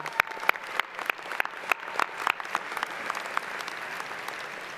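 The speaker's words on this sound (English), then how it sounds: "Let's give them one more round of applause as well" Commencement audience at a UCF fall graduation ceremony applauds with scattered, distinct claps rising over a steady wash of hands, moderately near and fairly lively throughout.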